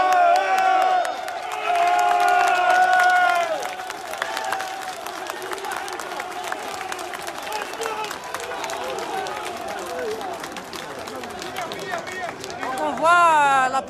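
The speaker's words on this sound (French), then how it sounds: "les pompiers sont en train d'applaudir" Firefighters applaud at a street protest against their poor working conditions, steady clapping and cheering from a crowd mixed with loud voices, shouting and whistles throughout, with a brief louder swell near the end.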